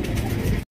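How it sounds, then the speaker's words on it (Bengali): Jumbo-size pigeons kept for sale give a brief, close, soft cooing burst that cuts off abruptly. "এখানে রয়েছে আপনার জাম্বো সাইজে 3টা শোকিং কবুতর দেখতে পাচ্ছেন"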